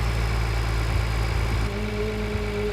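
A tractor engine idles in Farming Simulator 2013, a steady low rumble with a constant hum that shifts slightly in tone partway through.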